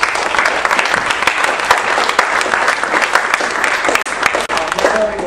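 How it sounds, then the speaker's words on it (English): An audience at a high school inspirational speaking presentation gives a loud, dense round of applause, steady and close for about five seconds with a few sharp individual claps standing out. "So let's give him a big round of applause for that."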